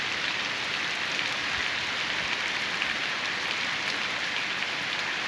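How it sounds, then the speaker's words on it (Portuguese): Heavy rain pours steadily on a farm in Ceará, a dense, even hiss of drops on surfaces that stays loud and unbroken from start to finish. "vamos degustar essa chuva"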